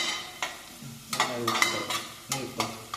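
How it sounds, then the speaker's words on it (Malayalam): Whole cloves, cinnamon and mace being stirred and sautéed in a hot pan, with a soft sizzle under repeated scraping stirs of a spoon against the pan, close up and with no talking. "ഇതിങ്ങനെ ചെറുതായിട്ടൊന്ന് വഴറ്റി കൊടുക്കട്ടോ."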